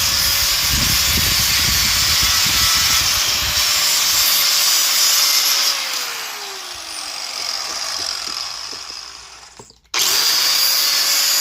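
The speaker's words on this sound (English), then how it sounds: "it gets so gummy when you're trying to sand it off" A power sander works loudly on the gummy powder coating of a creeper seat, running steadily for several seconds, easing off, then cutting out and starting again.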